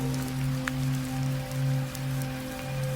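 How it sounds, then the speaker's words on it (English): Steady rain patters against a window, a soft even hiss with scattered drops and a low hum underneath. "Rain on the window, hush in the room."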